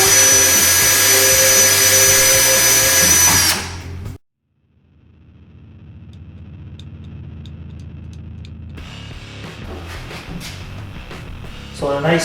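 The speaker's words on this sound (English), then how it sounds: "So we're just going to drill those 4 holes out." A power drill whines loudly for a few seconds while drilling holes in plastic for a snowmobile LED light, then stops, leaving a low hum and faint clicks before the motor starts up again.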